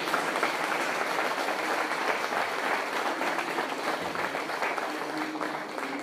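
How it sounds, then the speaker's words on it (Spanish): An audience at a religious talk in Guanajuato, Mexico applauds steadily, a dense, even wash of clapping that holds throughout. "un aplauso a Dios, un aplauso a Dios."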